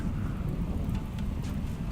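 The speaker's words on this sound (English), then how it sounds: "What is that noise? Oh, it's raining." Rain falls in the RimWorld video game during a lightning storm, a steady, low, rumbling wash of downpour that continues throughout.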